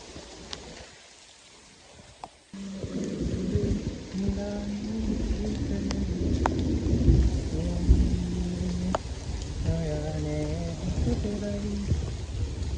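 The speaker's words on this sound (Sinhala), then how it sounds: "වහිනවා ගයිස්" Rain pours steadily on the mountaintop at Hawagala during a thunderstorm. The wash grows louder after a brief quiet moment, with low rumbles and tonal music in the background.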